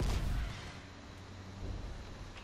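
A muffled car explosion in the video game Dying Light booms at the start, then fades into a rumbling, crackling wash of debris and low roar that lingers for a couple of seconds.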